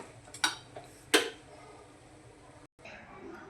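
A utensil clinks twice against a large bowl as a water chestnut flour laddu mixture is transferred into it, followed by quieter scraping and handling.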